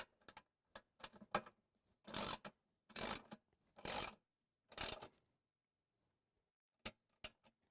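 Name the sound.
tightening hose reel swivel center bolt with wrench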